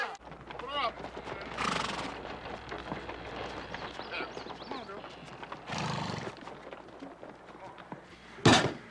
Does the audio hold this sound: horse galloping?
yes